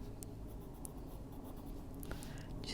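Pencil scratching steadily across paper as a figure is colored in blue, pressed harder to darken areas, a continuous close, dry rasp with a few sharper strokes, no voices.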